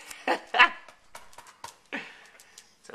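A dog makes a few short whimpering yips and soft whines, fairly quiet and close, with a person's voice faintly in the background.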